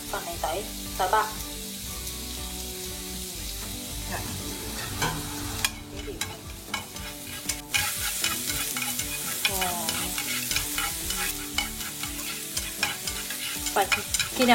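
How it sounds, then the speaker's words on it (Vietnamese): Minced garlic and lemongrass stir-fry in a hot pan, with a continuous sizzle broken by repeated scraping and clattering strokes of the spatula, close up and with no voices. "Sau khi bỏ sả sắc xong chúng ta bỏ tỏi vào."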